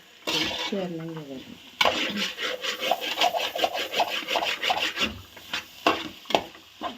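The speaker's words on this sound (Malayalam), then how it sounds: "നമ്മൾ നല്ല ഇളക്കി വാട്ടി കഴിഞ്ഞിട്ടുണ്ട് കേട്ടോ" A spatula scrapes and stirs a spiced mixture of coconut oil, mustard seeds, coriander leaves and garam masala in a pan, making rhythmic, close rubbing strokes. A voice is briefly heard near the start.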